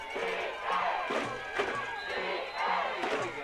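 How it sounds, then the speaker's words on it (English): A rowdy crowd at a women's football game between the D.C. Divas and Pittsburgh Passion, roaring and shouting in rising and falling waves, loud and sustained throughout. "The crowd's getting a little rowdy here."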